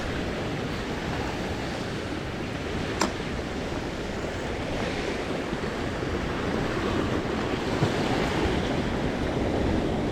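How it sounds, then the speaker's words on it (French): Sea waves break on a shore where someone is fishing, a continuous broad rush of surf with wind, close and steady, with one brief sharp click partway through. "Il y a les cassures de vagues qui se font là, regardez."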